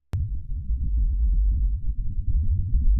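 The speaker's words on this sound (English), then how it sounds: "So that was the supposed sound of the water right there." Deep, steady rumbling throb presented as a recording of water on Mars, continuous and fairly loud after a sharp click at the start, with slow pulsing swells and no voices.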